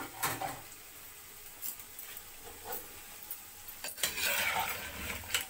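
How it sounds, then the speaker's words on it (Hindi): Mutton goes into onion masala in a pot for Bannu pulao and is stirred, giving faint scraping clinks of a spoon on metal and a soft sizzle, with no speech. "अब इसमें मैं मटन डालूंगी"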